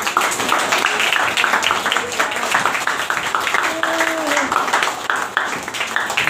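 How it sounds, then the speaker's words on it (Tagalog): A church congregation applauds: sustained, dense clapping from many hands that lasts several seconds, with voices calling out over it. "Palakpak para sa Diyos."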